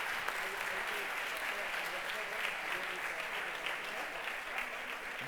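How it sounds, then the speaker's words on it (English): Audience applause for the third-place team at a hackathon closing ceremony, a steady distant-sounding spread of clapping that holds level throughout, with a voice faintly audible underneath. "Big applause."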